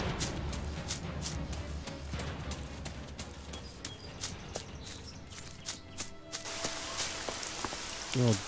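Steady rain patters across a surface in the video game ELEX, a constant wash of drops with faint footsteps or hoof-like clops and a few soft tones in the background.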